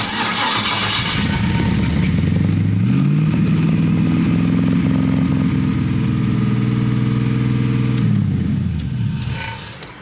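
A Chevrolet S10 pickup with an LS V8 cranks and fires up, then settles into a loud, steady, high idle that holds for several seconds before the engine shuts off and dies away.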